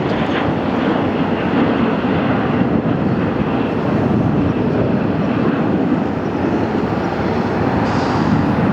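Airliner landing on runway 25 left at LAX, heard from a nearby park as a loud, steady broadband engine roar and rush that holds for the whole stretch with no talk.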